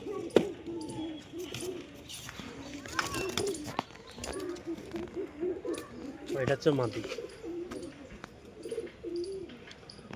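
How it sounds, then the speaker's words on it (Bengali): Giribaj pigeons, a male and a female, coo in soft, intermittent rolling phrases nearby, interleaved with someone talking and occasional sharp knocks and rustles. "দুটোই গিরিবাজ লাইনের কবুতর"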